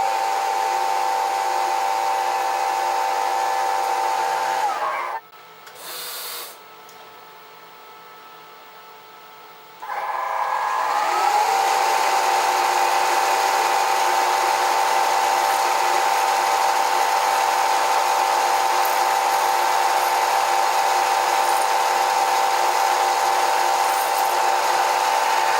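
A high whining tap drill bores into metal on a Bridgeport mill for an 8-32 thread, running steadily, stopping briefly for a few seconds with some clicks, then spinning up again and running on.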